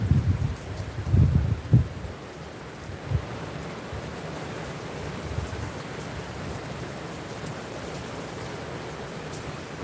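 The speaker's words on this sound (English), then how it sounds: "Very windy." Steady wind rushes and buffets the microphone, with low gusty rumbles in the first few seconds before settling into an even roar.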